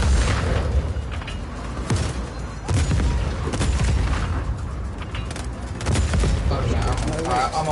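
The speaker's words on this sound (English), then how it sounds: "Stop shooting at me." Dense, continuous gunfire and booming explosions fill the scene in the action video game Just Cause 4, with near-constant bursts of shooting throughout.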